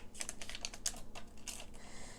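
Scissors snip through 6x6 patterned paper for a Christmas junk journal, a quick run of crisp, close cuts in short bursts with brief pauses, fairly quiet and with no voices.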